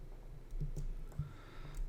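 Computer keyboard being typed on during an EverQuest game session, a handful of quiet, separate key clicks, faint and close, with no talking.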